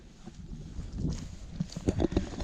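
Horses walk across open grassland, their hooves clopping softly and irregularly. The steps are faint at first and grow closer and more distinct toward the end, with no talking.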